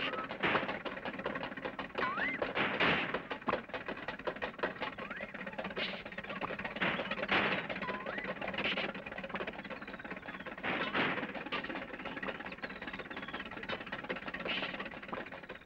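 A cartoon engine putters as Mr. Funny drives off in his shoe, a steady rattling, clattering mechanical run with busy ticking bursts, fairly loud and close, with no talk.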